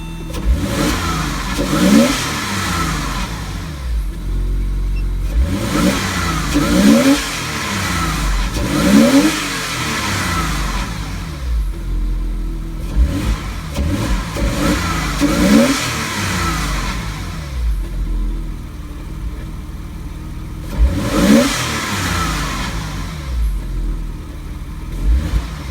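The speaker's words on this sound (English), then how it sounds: "Unbelievably quiet engine for being open right behind me." A Porsche Boxster S engine, open right behind the listener, is revved up and down in repeated surges, each rising and falling in pitch, with brief idle dips between them. It is close and loud, and nobody speaks.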